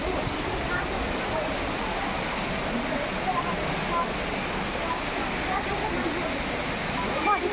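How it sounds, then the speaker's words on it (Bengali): A waterfall in Meghalaya pours with a loud, continuous rushing roar of falling water, close and steady, while people talk over it. "নিচে ঝর্নার জলটাই পড়তেছে।"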